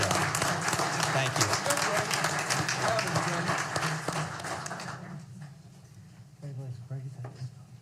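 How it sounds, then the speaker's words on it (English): Audience at an Arkansas Game and Fish Commission meeting applauding service awards, dense steady clapping for about five seconds, then dying away into room noise and a voice speaking. "can we have a round of applause for 190 years of service for all of these awards?"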